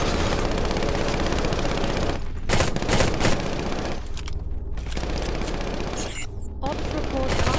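Sustained automatic gunfire and explosions in the military shooter game Eximius as a base comes under enemy assault, a dense, loud barrage with brief lulls and bursts, under game announcer voice lines.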